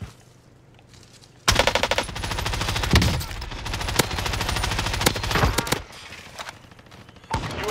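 Rapid automatic gunfire from a FARA 83 rifle in the Warzone video game on Rebirth Island erupts loudly after a quiet start, sustained for several seconds, then tapers into scattered shots and a final burst.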